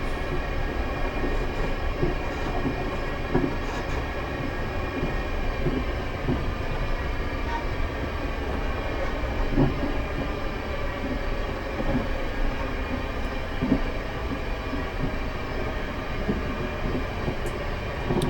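A Class 450 electric multiple unit runs on the Portsmouth Direct Line in Train Simulator 2020, a steady loud rumble of wheels and motor with faint clicks of rail joints, continuous with no talk.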